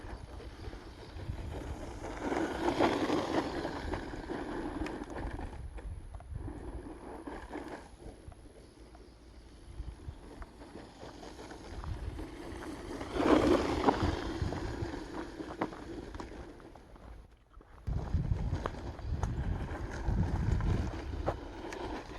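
An RC car runs at full throttle on an outdoor hill climb, its motor whining steadily under gusty wind noise and swelling and fading as it climbs and recovers.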